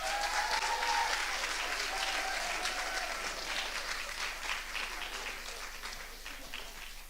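An audience at a youth poetry slam in Scotland applauds steadily as a poet makes her way to the stage, a broad continuous clapping that slowly fades, with a faint voice near the start.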